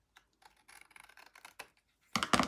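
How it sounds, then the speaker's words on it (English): Long-bladed scissors trim across a strip of craft paper in a card-making project, a run of light, crisp snips and paper rustles that ends in two louder, close cutting strokes, with no voices. "I'm gonna use a long bladed scissors to trim across."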